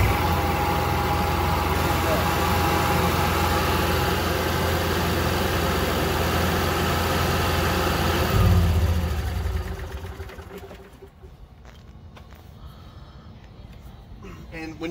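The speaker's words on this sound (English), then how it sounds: "When you start your generator up and you're not hooked to shore power if you're dry camping" An RV generator on a Cyclone 4007 toolbox hauler starts and runs at a steady mid-pitched drone for several seconds before dropping away, with a person talking over it.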